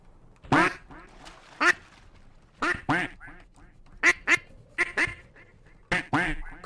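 Duck quacking in the video game Garry's Mod, likely a player imitating it by voice: loud, raspy quacks in short bursts of one or two, repeated about a dozen times over several seconds, close and alone.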